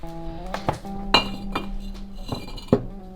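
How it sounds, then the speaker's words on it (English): Old glass liquor bottles from an abandoned family home clink together, with several sharp ringing knocks spaced unevenly and close by, and no talking. "Old glass liquor bottles."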